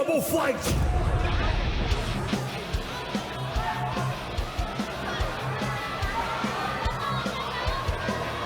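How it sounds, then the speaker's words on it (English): A large crowd chants and roars for a Chinese fighter at The Global Fight 2019 Muay Thai event, a loud, continuous wall of massed voices with bursts of shouting throughout. "you can hear the chants from the crowd for Gao Bin from China"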